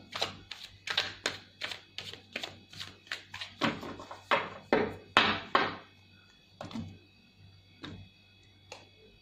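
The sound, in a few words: shuffling tarot cards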